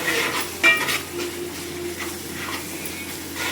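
Turmeric frying in hot oil in a pot for a Nellore-style fish curry, giving a steady close sizzle and hiss with light stirring and utensil clinks scattered through.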